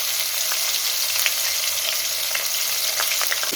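Steady, dense sizzling of red chillies, cumin and fenugreek frying in hot oil for garlic vatha kuzhambu, with a few soft crackles and pops, heard close with no talking.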